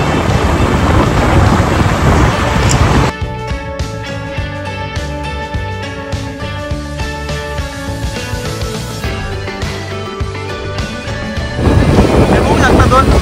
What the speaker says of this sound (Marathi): पाऊस खूप आलाय त्यामुळे आम्ही एका साईडला थांबलोय सगळे आता